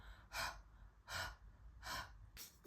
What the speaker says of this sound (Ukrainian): Тобто це таке діафрагмальне дихання.